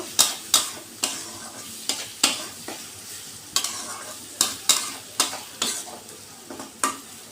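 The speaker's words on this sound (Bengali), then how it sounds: "ভাজা ভাজা করে নেব" Mola fish frying in a pan with salt and turmeric, a continuous sizzle broken by a dozen sharp, evenly spaced scrapes of a spatula as it is stirred.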